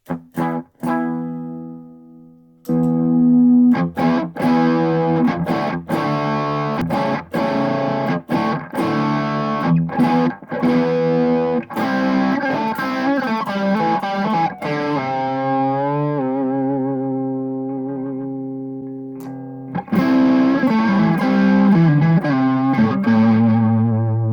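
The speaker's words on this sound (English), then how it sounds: "I'll set this at full distortion with the tone at 12 o'clock" Electric guitar played through an MXR Classic Distortion pedal set to full distortion with the tone at noon: loud, saturated chords and riffs ring out alone, with a long sustained chord fading before the riffing resumes.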